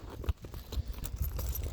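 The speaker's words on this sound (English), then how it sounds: "Let me sort my keys out. That must be really annoying. Just hearing this rattling." A bunch of keys jangles and rattles in short metallic bursts as they are sorted by hand outdoors during an evening forest walk, close and fairly quiet.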